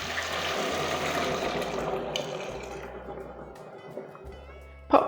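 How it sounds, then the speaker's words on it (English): Stock is poured from a container into a saucepan in a kitchen, a continuous gurgling splash of liquid filling the pan that gradually quiets, followed by a brief clatter at the end. "So what we need to do now is just pour the stock into the saucepan."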